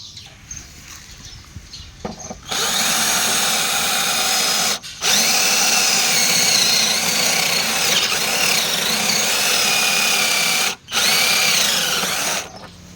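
A cordless drill with a fresh battery starts up after a quiet moment and runs in long, strained whining bursts, pausing briefly twice while grinding through a metal bolt.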